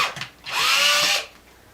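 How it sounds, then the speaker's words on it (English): Cordless drill boring a hole through a short length of hoop tubing, a brief loud whirring burst of about a second that ends abruptly, with no talk. "going to drill"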